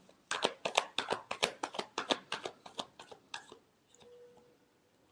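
Tarot cards shuffled by hand in about a dozen quick, crisp riffling bursts at a steady pace, close and fairly quiet, then a short soft pause.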